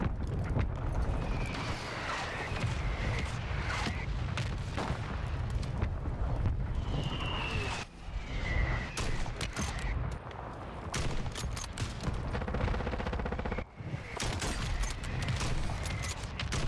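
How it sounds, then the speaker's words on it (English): Mortar strike explosions and gunfire in the Call of Duty Warzone video game, a dense, loud, continuous barrage of blasts and shots with a few sharper booms breaking through. "Mortar strike on the way!"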